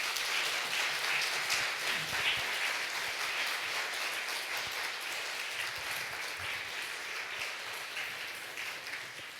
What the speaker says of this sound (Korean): 큰 박수 부탁합니다